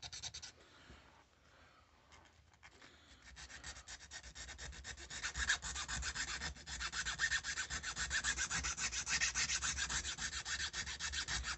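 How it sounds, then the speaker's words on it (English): A fine metal file rasps steadily across G10 pistol grips, its dense scraping strokes growing louder and more continuous after a quieter start, close and without talk. "this is not a coarse file by any means, so we're not taking tons of material off it"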